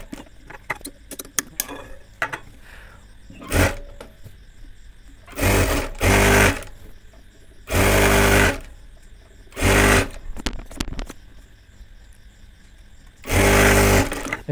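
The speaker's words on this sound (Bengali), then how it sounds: "এখান থেকে আমি সেলাই ধরবো নিচ দিকে" A sewing machine stitches a child's panjabi in several short, loud bursts separated by quiet pauses. Faint handling clicks and fabric rustles fill the gaps.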